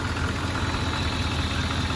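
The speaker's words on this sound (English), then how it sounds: "Listen how quiet this motor is." An original engine in a 1957 Chevrolet Bel Air convertible idles smoothly and quietly, a steady low hum with no changes in pace and no talking.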